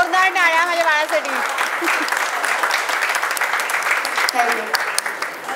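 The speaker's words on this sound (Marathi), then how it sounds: "जोरदार टाळ्या माझ्या बाळासाठी." A small crowd at a Mumbai meetup claps warmly for several seconds, the applause steady and close, with a voice talking over it at the start and near the end.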